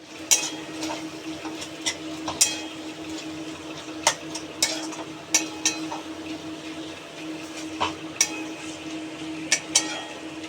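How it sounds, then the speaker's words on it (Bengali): A spoon stirs and scrapes a masala of Kashmiri chili, turmeric, cumin and coriander powders frying in a pan for mutton; sharp metallic clinks recur irregularly over a continuous low sizzle. "এবার মশলাটাকে কষিয়ে নেব"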